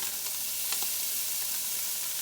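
Peas sizzling in a hot pan for shrimp fried rice, a steady soft frying hiss with a few brief crackles, close and continuous with no talking.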